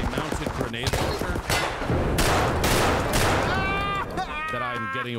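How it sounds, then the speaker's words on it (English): A mounted grenade launcher firing in the shooter game Escape from Tarkov: several heavy bursts of gunfire in quick succession, loud and close, mixed with other in-game noise while someone talks over it. "That is a mounted grenade launcher"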